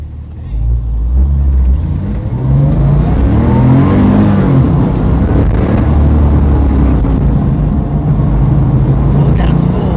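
A race car accelerating hard around the track in a practice session, a loud, continuous in-car engine roar with rising and falling revs through gear changes and a voice talking over it.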